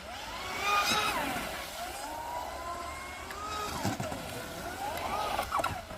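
A Proboat Recoil RC boat runs on the water, its small electric motor whining with rising and falling pitch as it speeds past and turns, fairly close and steady over about six seconds, with no one talking.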